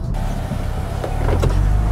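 Electric motor whir of a BMW Z4 35is folding hardtop roof in motion, a close, steady mechanical hum with slight shifts in pitch over a couple of seconds.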